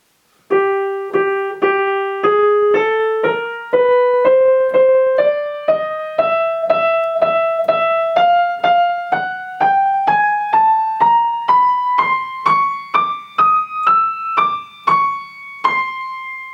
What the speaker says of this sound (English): that ascending line, extremely difficult to bring out here, sounds like this